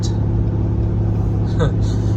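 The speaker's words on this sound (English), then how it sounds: "The GT Hemi does sound good though. The noise coming out of the back is great." Low, steady exhaust drone of a Ram truck's GT Hemi V8 at cruising speed, a continuous rumble heard from inside the cab with faint background chatter.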